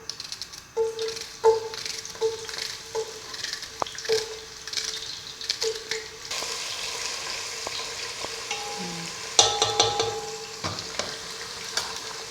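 Chopped onions frying in about a tablespoon of oil for a vegetable pulao, a steady close sizzle with repeated light clinks of a spoon stirring the pan, no voices.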